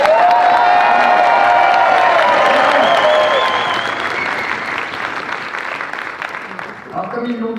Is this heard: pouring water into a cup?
no